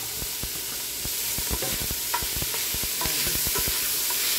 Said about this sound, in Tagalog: kinuha na po natin ang ating carrots at ating iluluto ang ating 8 pieces of sausage.